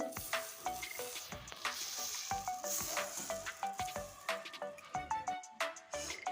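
Thin gola ruti batter flatbread fries crisp in a hot pan, a close, lively sizzle and crackle with rhythmic scraping, and light melodic tones run underneath.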